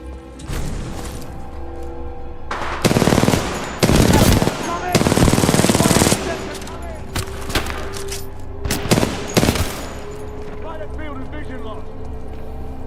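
Repeated bursts of automatic gunfire rattle through a combat attack in the video game Titanfall 2, with a few loud volleys standing out over continuous battle noise and occasional voices.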